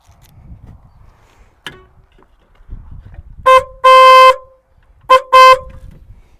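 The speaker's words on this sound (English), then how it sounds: "let's see what our new horn sounds like." A new car horn wired straight to a battery blares in two pairs of short and longer honks, loud and close, after some quiet handling noises.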